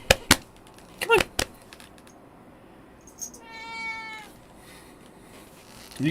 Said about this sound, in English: Yeah, you can hear the cat